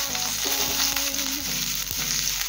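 Oil sizzling steadily in a hot pan while an egg masala paste fries, with a continuous hiss and a few soft stirring knocks, close and loud with no talking.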